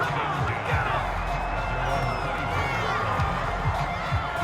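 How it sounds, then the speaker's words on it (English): Stadium crowd noise from an NFL football game in Madden NFL 22, a steady dense roar with cheering and scattered clapping on the sidelines, continuous and moderately loud, with no clear commentary over it. "That's why you hear that clapping on the sidelines, right?"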